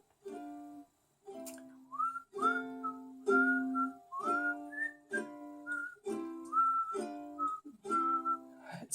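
A person whistles a melody nearby, a series of clear sustained notes and short slides that pause briefly between phrases, quiet and alone.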